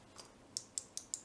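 Small electrical switch contacts clicking four times in a quick, evenly spaced series, each a sharp, faint snap close by with nothing else around.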